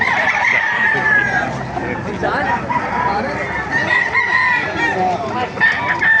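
Several roosters crow repeatedly at a chicken market in Baliuag, overlapping calls close by amid busy crowd chatter and clucking.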